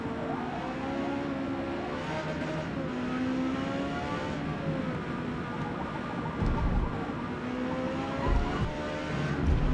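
A race car in the Forza Motorsport video game drives with a steady engine drone that shifts pitch as the throttle changes, with occasional low bumps.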